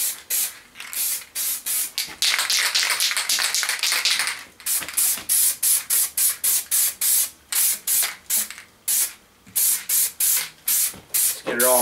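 Spray can laying a light coat of self-etching primer on a motorbike part in a garage, loud hissing bursts repeated in a steady rhythm of short and longer sprays, close up with no one talking.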